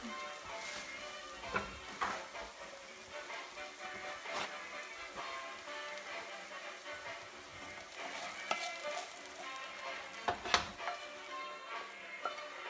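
Onions and ginger fry in a pan for Thai lettuce wraps, a steady close sizzle with stirring clinks and a few sharp pops and crackles rising above the crackling bed of sound.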